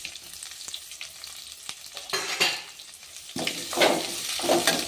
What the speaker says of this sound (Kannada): ಈಗ ನೋಡ್ರಿ, ಫ್ರೈ ಅದು ಆಲೂಗಡ್ಡೆ ಆಮೇಲೆ ಈರುಳ್ಳಿ ಎಲ್ಲ ಫ್ರೈ ಅದ